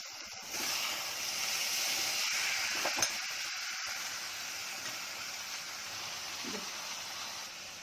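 Steady sizzling and frying hiss from a pan of parwal (pointed gourd), dried fish and masala, fairly quiet and continuous, with a faint clink or stir near the middle.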